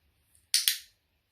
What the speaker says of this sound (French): simplement, on clique, on donne une récompense